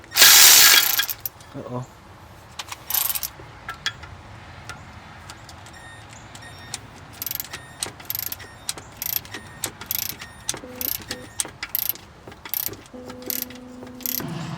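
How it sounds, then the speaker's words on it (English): Milwaukee ratchet working on the power steering pulley of a 1983 Chevy C10: sharp, close ratcheting clicks in short intermittent bursts, with a brief voice. "Got my little Milwaukee ratchet."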